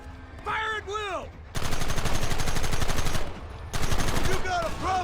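Gunfire from Red Dead Redemption cracks in two long, dense volleys of rapid shots, loud and close, set between short stretches of tonal music or whistling.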